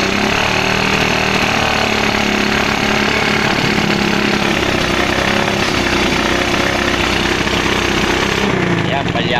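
A misfiring 110 motorcycle engine with a smashed carburetor revs loudly and unevenly up close, a rough sputtering drone with a steady throttle that drops away near the end.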